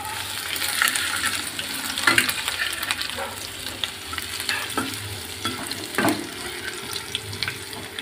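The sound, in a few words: chopped ginger sizzling in hot oil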